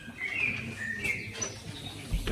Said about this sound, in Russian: Птички щебечут.